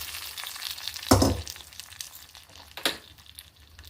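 Hot oil spice tempering sizzles and crackles in two brief bursts as it hits sambar, then settles into a soft frying hiss.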